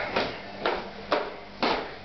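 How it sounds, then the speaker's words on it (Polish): A metal mail slot flap in a front door being pushed open four times at a steady rhythm, each a short rattling clack, close by and alone with no talking. "To są magiczne drzwi pocztowe."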